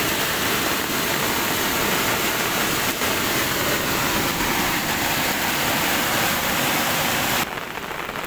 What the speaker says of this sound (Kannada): ಸತತವಾಗಿ 1 ಗಂಟೆ ಸುರಿದ ಧಾರಾಕಾರ ಮಳೆಯಿಂದಾಗಿ ಸುತ್ತಗಟ್ಟಿಯ ಹಳ್ಳ ತುಂಬಿ ತುಳುಕ್ತಾ ಇರ್ತಕ್ಕಂಥ